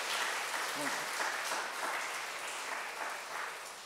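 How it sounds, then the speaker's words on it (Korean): A church congregation gives a steady round of applause for visiting elders, a soft, even wash of clapping that continues without a break, with a brief voice near the start. "박수 한번 쳐줘."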